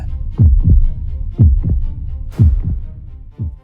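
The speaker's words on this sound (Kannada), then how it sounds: "ಎದೆ ಬಡಿತ ಜೋರಾಗಿ ಹೊಡ್ಕೊಳಕ್ ಸ್ಟಾರ್ಟ್ ಆಗುತ್ತೆ" A heartbeat sound effect thumps in four loud, deep double beats, lub-dub pairs about one second apart, standing alone without any talk.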